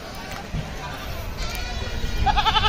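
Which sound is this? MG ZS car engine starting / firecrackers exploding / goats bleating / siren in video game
goats bleating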